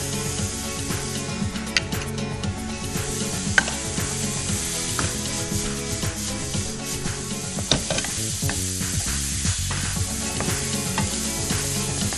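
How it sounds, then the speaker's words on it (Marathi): Onion frying in a pan with a little salt, a steady close sizzle throughout with occasional scraping and clicking of a utensil stirring; no talk. "कांदा छान खरपूस भाजून घ्यायचा आपल्याला."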